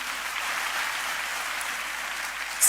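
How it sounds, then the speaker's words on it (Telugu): Audience at a Telugu Christian worship gathering clapping, a steady dense wash of applause from many hands throughout, with a brief louder burst at the very end. "ఒక్కసారి ఆయన నిమిత్తమై ఒక్కసారి చప్పట్లు కొడతారా?"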